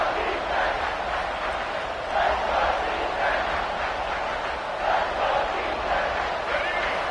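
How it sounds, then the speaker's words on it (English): A football stadium crowd roars in a steady wash of cheering and shouting while the defense plays in the red zone, loud and continuous with slight swells throughout. "the crowd coming to life here trying to help this defense down in the red zone"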